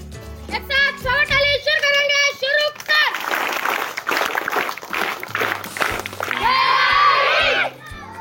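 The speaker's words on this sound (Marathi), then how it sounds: "त्यांचं स्वागत टाळीने स्वागत करूया, त्यांचं अभिनंदन करूया। स्वागत टाळी।" In a Marathi primary school classroom, a group of children claps rhythmically in welcome, a run of quick, close claps framed by chanting and shouting young voices.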